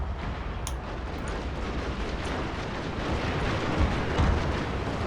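Cannon fire from an armored ironclad warship in the Shogun II Total War strategy game, a heavy rumbling boom over a dense battle din, loud and sustained.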